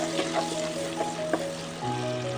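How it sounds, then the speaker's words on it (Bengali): Chopped onion fries in oil in a pot for a one-pot egg masala rice, a close, steady sizzle with faint stirring taps. "এবার ওই তেলেই দিয়ে দেবো অল্প একটু পেঁয়াজ কুচি, দিয়ে এটা ভালো করে ভেজে দেবো"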